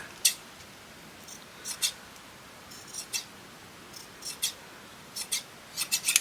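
Scissors snipping small bits of craft material, roughly a dozen short crisp snips in irregular clusters, close and fairly quiet against a soft background hiss.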